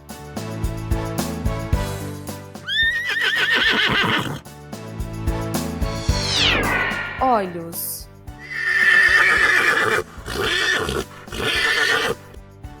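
Horses neigh and whinny in several loud, rising-and-falling calls separated by short pauses, with a voice briefly speaking between them.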